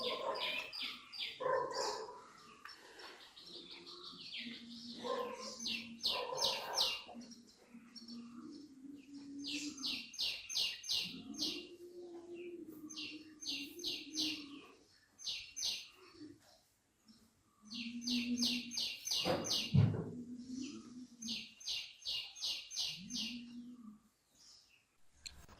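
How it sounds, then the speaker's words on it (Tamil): Birds chirp and sing in repeated bright bursts across the hills, with scattered calls near and far and a low dog-like bark or coo now and then, no voices present. "மலைகள்ல இருக்கிற பட்சிகளோட சவுண்டு, நம்ம மரங்கள் அசைற சவுண்ட தவிர இங்க வேற எந்த சவுண்டுமே இருக்காதுங்க."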